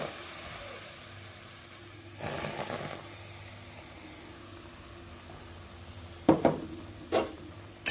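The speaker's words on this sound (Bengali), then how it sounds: "দিয়ে ভালোভাবে নাড়িয়ে চাড়িয়ে নেব, শুকনো করে নেব নাড়িয়ে।" Palm fruit pulp is stirred in a wok over a low hiss of heat, with a short scraping burst early on and a few sharp spatula scrapes and taps near the end.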